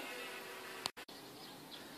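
Honeybees from an apiary, as colonies are being dequeened, buzz in a steady, faint drone, with a brief knock and a short dropout partway through, and no talking.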